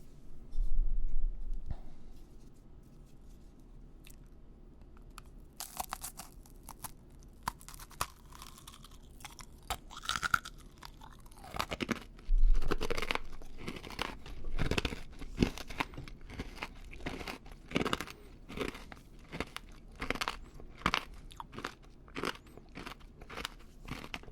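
Crisp bites and crunchy chewing of a Crystal Rose fill the quiet after a silent start, with dense, close crackling chews repeating rapidly.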